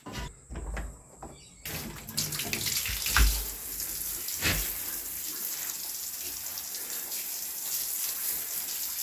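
Water from a garden hose rushes steadily through a buried poly pipe joint, flushing it out in a continuous gushing hiss after a few thuds and knocks, with no talking.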